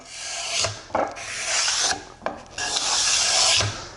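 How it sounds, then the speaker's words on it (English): A sharpened putty knife scrapes across the saw-cut surface of rough, brashy wood, three or four long close rasping strokes separated by brief pauses and small knocks. "take a sharpened putty knife to smooth off the saw cut surface"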